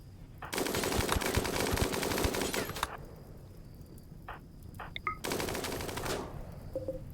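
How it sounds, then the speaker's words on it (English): Two long bursts of rapid automatic gunfire in RimWorld Odyssey aboard a pilgrim ship, with a few short, faint shots between them, at moderate level and without speech. "What is with you guys shooting"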